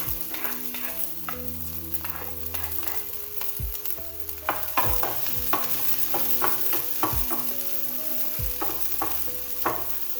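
Onions sauté in hot cooking oil in a pan, a close, steady sizzle punctuated by recurring utensil scrapes and knocks, with a faint steady hum in the background.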